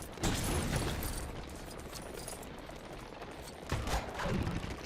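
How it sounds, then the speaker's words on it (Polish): Gunfire in LEGO Pirates of the Caribbean in loud, rapid bursts of shots, with a short pause before another volley near the end. "tu do nas strzelają, musimy przeskakiwać"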